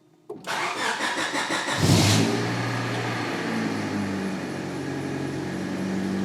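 After a click, the engine of an accident-damaged Honda Civic cranks rapidly, catches with a roar, then settles into a steady, rumbling idle.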